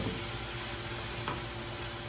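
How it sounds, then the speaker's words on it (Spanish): Bacon and sausage fry in a pan with a continuous close sizzle and crackle, fairly loud and even, with a brief stirring scrape and no voices. "Lo dejamos que se sofría bien, bien, bien y ya."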